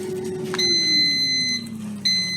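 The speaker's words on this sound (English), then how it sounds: "That's my air fryer saying my beans are done." An air fryer beeps that its beans are done: a few bright electronic tones ringing in two separate bursts, clear and close over a low background hum.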